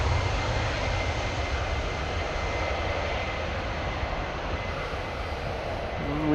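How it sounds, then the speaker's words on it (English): A KLM passenger jet departs Amsterdam Schiphol Airport, its engines a steady, loud broadband roar close by that holds throughout with no talk. "KLM flight 1313 to Warsaw, coming this way."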